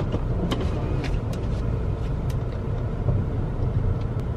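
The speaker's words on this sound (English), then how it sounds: "I'm moving my car to the driveway so I can like vacuum it and clean it out" A car is moved into a home driveway, its engine a steady low rumble throughout with a few light clicks and knocks over the top; no talking.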